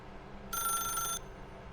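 A telephone rings in The Stanley Parable: Ultra Deluxe video game, one short, clear electronic ring burst over a low background hum.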